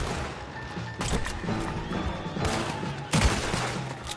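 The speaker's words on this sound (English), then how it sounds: "Horses are over there!" Horses neigh and whinny in a video game battle, caught in dense, continuous gunfire with sharp loud bursts near the start and end; the scene stays busy and crowded throughout.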